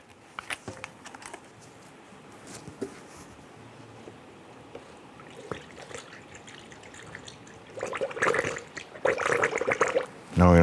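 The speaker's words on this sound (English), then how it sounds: "So now go ahead and fill up our radiator." Coolant poured into the radiator of a 1997-2006 Jeep Wrangler during a thermostat housing replacement, heard as soft trickling and gurgling with scattered drips and clunks, swelling into louder splashy pouring near the end.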